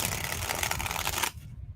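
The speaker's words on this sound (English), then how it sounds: "Oh, shuffling in the cards wrong." Tarot cards are shuffled in a quick, dense riffling burst of crisp papery flutter that runs close and loud, then stops abruptly into quiet.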